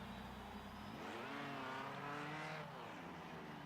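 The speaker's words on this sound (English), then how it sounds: "I see two other F2 cars close on the track" Formula 2 race cars on the Interlagos circuit, a high engine whine rising and falling in pitch as a car accelerates past, moderately distant and steady.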